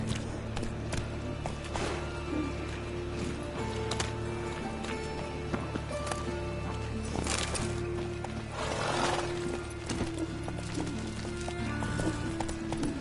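Roach, a horse in The Witcher 3 game, gallops with a continuous hoofbeat rhythm beneath music and game ambience, moderately loud and steady across the stretch.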